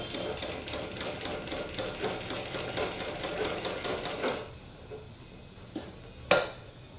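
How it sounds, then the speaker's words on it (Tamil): A sewing machine stitches a blouse sleeve with a fast, even mechanical rattle for about four seconds, then stops, followed by a few faint clicks and one sharp knock. "அடுத்தது வந்து டர்ன் பண்ணிவிட்டு அது மேலேயே அடுத்த ஸ்டிச்."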